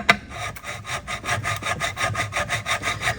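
Guitar frets being sanded along a fretboard during fret leveling and crowning, a steady rhythmic back-and-forth rasp of about a dozen even strokes, close and moderately loud with no talk.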